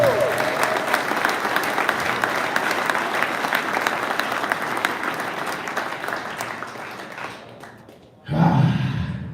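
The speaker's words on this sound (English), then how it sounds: "give Duke another round of applause" Sustained applause from an audience at a fishing tournament's national championship awards ceremony, steady and dense for about eight seconds, then fading out before a louder burst of sound at the end.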